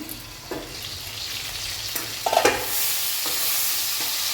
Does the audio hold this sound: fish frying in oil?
yes